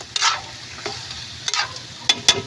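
Chicken curry sizzling in a pan, close and loud, with several quick scraping strokes of a utensil stirring it over a steady frying hiss.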